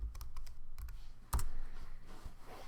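Typing on a computer keyboard: a quick run of light clicks and taps, close and fairly quiet, with one firmer key strike partway through and no talking.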